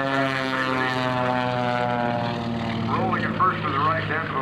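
A single aerobatic airplane at a 2004 air show, performing a 225-degree rolling turn, its propeller engine droning steadily and loud throughout, with a commentator talking over it.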